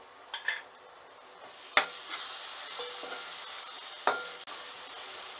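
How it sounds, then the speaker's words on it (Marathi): Ground masala sautéed and stirred in a hot pan for Marathi kulith amti, a steady soft sizzle broken by a few sharp scrapes and knocks of a spoon against the pan, close by and with no talking. "आता आपण वाटलेला जो मसाला आहे तो मसाला टाकून घेऊ आणि छानपैकी परतून घेऊ"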